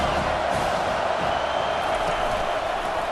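Football stadium crowd roaring steadily through a snowy game, a dense continuous wall of cheering with no breaks, loud and distant-sounding, with no clear voices standing out.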